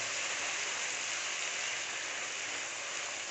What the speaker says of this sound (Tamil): இந்த அரைச்ச மசாலாவை இந்த எண்ணெயில் போட்டுடலாம். போட்டு நல்லா வதக்கி விட்டுறேன்.